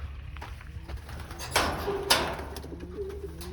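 Soft, low racing pigeon coos sound in the background, with a couple of brief rustling flaps or bumps up close near a wire training cage.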